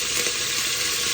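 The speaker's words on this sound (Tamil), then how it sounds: "இப்போ பூண்டு பொரிஞ்சிட்டுது, கருவேப்பிலை போட்டுக்கொள்கிறேன்" Garlic and curry leaves sizzle while frying in hot oil in a pan, a dense continuous crackling hiss, close and steady for a brief moment with no voices.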